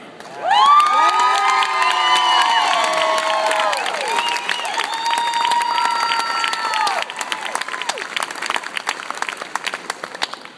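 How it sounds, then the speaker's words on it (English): A crowd at a hall of fame induction erupts in applause, cheering and high whoops and whistles for inductee Brian Shipham, loud and sustained before thinning into scattered claps. "I knew there was going to be a lot of applause there."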